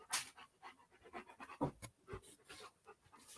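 A stressed, upset dog pants in quick, breathy rhythm close by, fairly quiet, with faint scratchy rustling around it and no talk.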